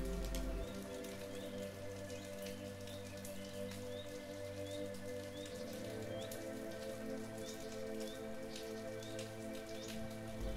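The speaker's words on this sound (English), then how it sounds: "Picture yourself cleansed and refreshed by the soft rain." Soft rain falls in a continuous, gentle patter, steady throughout, layered over a low sustained droning tone.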